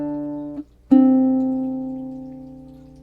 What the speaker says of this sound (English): I'm going to always hit my bass note, and I'll be playing a note from my scale in this position on every beat.